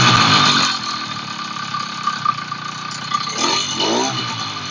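A small motorized bicycle engine runs steadily at idle, a buzzing, burbling putter with a few revs rising near the end, close and alone.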